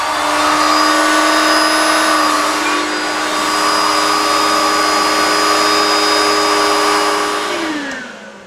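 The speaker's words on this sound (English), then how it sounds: "So you're going to take your beveler, run it through there." Close up, a carpet beveler trims a carpet edge for binding during rug fabrication, giving a loud, steady motor whine whose pitch dips briefly and then fades at the end.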